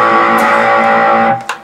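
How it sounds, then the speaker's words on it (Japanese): Electric guitar with a distortion effect switched on, a sustained rock-style chord ringing loud and steady before fading near the end, with a quick pick attack. "この歪みをオンにすると、"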